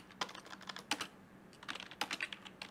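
Someone types on a computer keyboard, and the quiet, close keystrokes fall in irregular quick clusters with short pauses between bursts.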